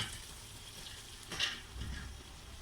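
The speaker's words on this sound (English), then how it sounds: "I'm going to topple my whole rice and lentil mixture in here" Rice and lentil mixture tipped into a hot pot, giving a soft sizzle and frying hiss that swells briefly near the middle and then settles into a low, steady crackle, fairly faint and with no talk.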